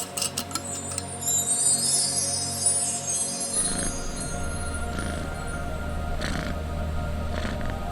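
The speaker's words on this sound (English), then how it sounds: "Releasing the purrs out into the air." A cat purrs in a low, steady rumble that sets in about midway and continues to the end, following a stretch of soft tinkling and airy background sound.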